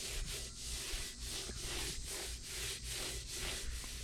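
Surface rust on a painted metal surface being scrubbed off with a wet sock, a close, steady rhythmic rubbing in repeated up-and-down strokes about every half second.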